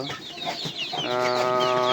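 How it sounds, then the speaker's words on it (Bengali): A Brahma chicken clucks close by in a short series of bright, nasal calls that rise into a longer drawn-out cackle at the end. "আমার সেই শখের ব্রাহ্মার মুরগি এই দেখেন"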